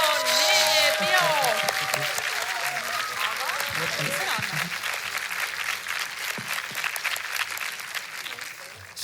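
Crowd applause rises at a song festival in Narva, dense steady clapping that fades slightly over several seconds while voices carry over it.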